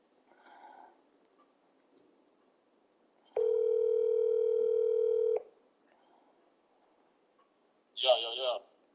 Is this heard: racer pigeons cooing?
no